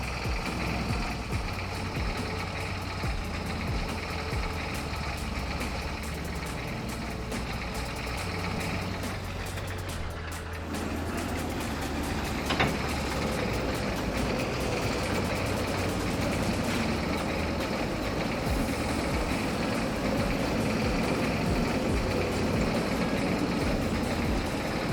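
A harvester engine idles in a farming video game, a steady low mechanical drone that holds evenly throughout, with a faint click partway through and no talking.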